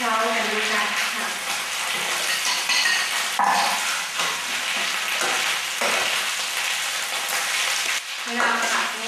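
Mushrooms stir-frying in a pan for a vegan Thai red curry, a loud, close, spattering sizzle with intermittent scraping and clatter against the pan, no clear speech.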